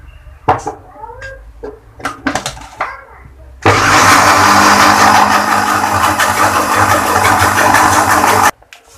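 An electric mixer blends lemon juice into apple tart batter, cutting in loudly after a few seconds of soft clatter and brief talk, then holding a steady, close whirring drone for about five seconds before stopping abruptly.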